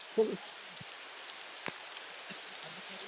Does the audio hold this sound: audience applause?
no